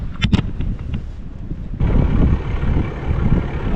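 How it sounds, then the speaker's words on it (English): A sailboat's engine starts after a few short sounds, then runs in a steady low rumble, mixed with wind noise on the microphone. "Let me Turn on the engine."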